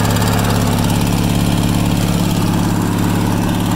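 A converted Kohler opposed twin-cylinder engine from a junkyard, horizontal and running on both cylinders. It idles close and loud with an even, rapid chugging pulse that holds steady throughout.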